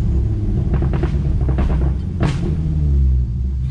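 An Infiniti G35 fitted with an aftermarket Y-pipe gives a loud, deep exhaust rumble as it decelerates at low RPM, a steady close drone with a few rougher pulses and crackles, with no talk.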